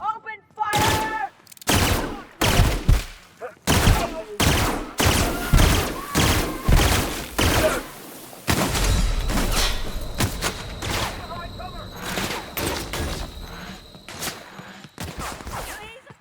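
Bursts of gunfire and heavy automatic fire in The Outer Worlds, loud and repeated in irregular volleys with thuds, running almost continuously, with a voice briefly heard among the shots.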